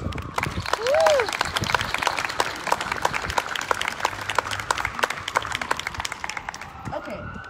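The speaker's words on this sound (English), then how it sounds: "Let's give her one big round of applause." Audience applause at a community budget press conference, a steady patter of many hands clapping at moderate distance that fades toward the end, with a brief voice and a whistle-like tone near the start.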